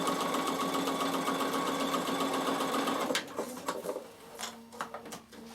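A Bernina sewing machine set to a longer stitch runs a half-inch seam at a fast, steady whir for about three seconds, then stops, leaving a few light clicks and handling sounds.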